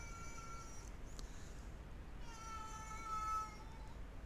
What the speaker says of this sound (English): If you can hear that, that's my cat.